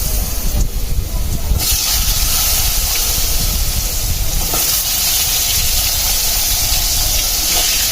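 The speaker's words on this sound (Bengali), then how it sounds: "মাছ ভাজা তেলে দিয়ে দিচ্ছি আলু" Potatoes frying in hot oil left over from frying fish, giving a steady, loud hiss and sizzle that runs on without break.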